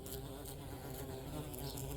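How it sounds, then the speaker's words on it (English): A bee buzzing steadily and close by outdoors, a continuous droning hum that holds for the whole stretch without pause. "maybe I can get a picture of that little bee coming at me. But nope, he flew away."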